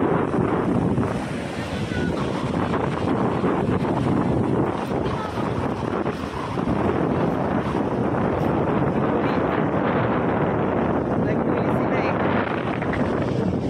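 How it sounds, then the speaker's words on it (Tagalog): Steady warm wind gusting outdoors in the dark near the coast at Kamisu, Ibaraki, Japan, a continuous broadband roar buffeting the microphone with no clear breaks, loud and close throughout. "Mahangin siya pero mainit na mahangin sa dilim."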